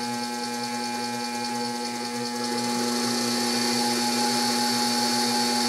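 A slow-speed DC motor drives a drill for boring large holes, giving a steady mechanical whine with a constant hum and pulsing rattle, its pitch lifting slightly partway through as the speed rises; no one talks.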